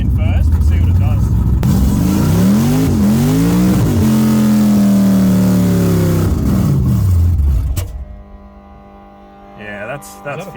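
A car engine revs hard in first gear, climbing and falling through several loud, close sweeps before cutting back to a low idle, with people talking over it.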